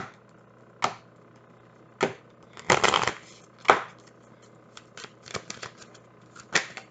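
A deck of tarot cards is shuffled by hand: sharp, separate riffles and snaps at irregular intervals, with a longer burst in the middle, close and clear with no talking.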